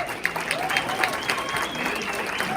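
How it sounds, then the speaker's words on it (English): An audience at a Hall of Fame induction ceremony in eastern Iowa claps for the host. The applause is steady and moderate, with a faint voice or tone running underneath. "you really got to give him a nice round of applause"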